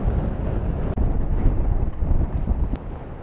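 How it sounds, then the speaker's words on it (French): Strong storm wind buffeting the microphone at a kitesurfing spot in a steady low roar, with gusts rising and falling and a brief dropout. "Ça tourne vraiment à l'extrême tempête."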